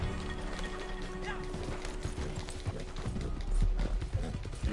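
Horse hooves clop in the video game Red Dead Redemption Online, a run of quiet, irregular thuds over low game ambience that thickens slightly toward the end.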